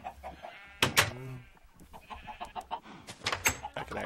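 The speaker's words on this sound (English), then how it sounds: "but we got lots of chickens in there" Minecraft chickens cluck and squawk in a short, busy burst of calls, fairly close and moderately loud, with game clicks and a small amount of background noise between the calls.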